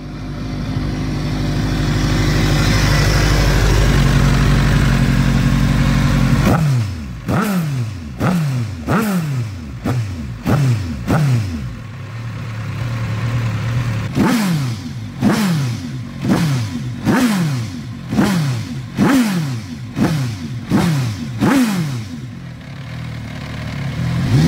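A powerful Eisenberg V8 motorcycle engine with eight independent throttle bodies idles with a deep rumble, then revs repeatedly in sharp bursts, each rising and falling, loud and close, with brief pauses between.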